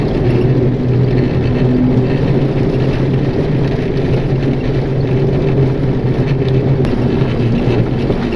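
A Chevy truck being driven out, likely after recovery with a tracked Jeep, gives a steady low engine rumble and drone that stays loud and unbroken throughout, with no talk.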